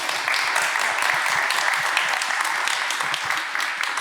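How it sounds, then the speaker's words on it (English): Warm applause from the audience at a conference session on digital, human and arts-driven innovation in Africa, an even, dense patter of clapping that holds steady for several seconds. "Please also warm applause to them."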